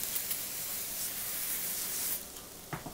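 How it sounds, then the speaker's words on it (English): Cooking spray hissing in a steady, close, loud stream over papas rellenas frying in a pan, then cutting off near the end and leaving a couple of faint clatters. "I'm going to just spray them just so they get a little coating."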